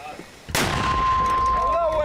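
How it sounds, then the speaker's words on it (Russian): A military mortar fires a single round with a sudden sharp boom, followed by a rumbling echo and a faint ringing tone as the blast dies away, heard outdoors. "Первую мину отправляет командир."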